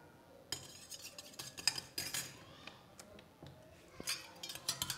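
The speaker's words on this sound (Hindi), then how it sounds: "इसको हम अच्छी तरीके से इसमें मिक्स कर लेंगे" A metal spoon stirs sesame oil into onion juice in a small bowl, producing quick, irregular clinks and scrapes against the container, close and fairly quiet, with no talking.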